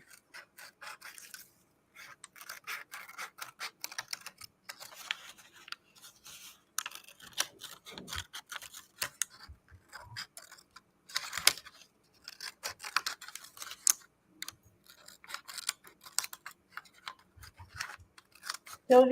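Scissors snip through paper in quick, irregular bursts of sharp, crisp cuts, close by and fairly quiet, with brief pauses between runs of snipping.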